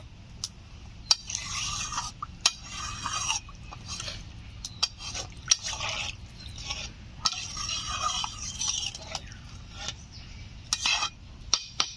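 Gravy being poured into a pan of rohu fish curry and stirred with a utensil, giving repeated scraping and clinking against the metal pan over a soft simmering sizzle, close and fairly steady, with no voices.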